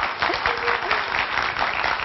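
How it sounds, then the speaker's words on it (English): A television studio audience applauds, a full, even burst of many hands clapping that stays strong across the moment without talk. "Let's give him some applause, you guys"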